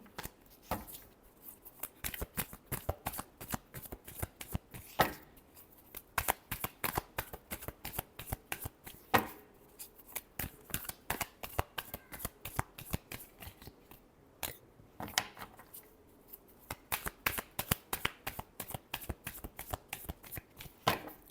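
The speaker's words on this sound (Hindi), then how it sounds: "Last shuffle." A deck of cards is shuffled close by, repeatedly, in quick riffling bursts and snapping flicks that carry on for about twenty seconds with no talk.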